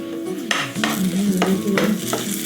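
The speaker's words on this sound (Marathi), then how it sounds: "हे मिश्रण व्यवस्थित भाजून घेऊयात." Shev bhaji masala mixture roasting in a pan, with a sizzling fry punctuated by repeated scraping stirs of a spatula at an irregular rhythm, close and clear.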